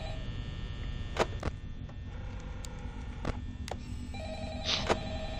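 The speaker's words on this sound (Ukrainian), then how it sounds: "Телефон." Telephone ringing in the Five Nights at Freddy's video game: faint repeated electronic rings with sharp clicks over a low steady hum, with no talk.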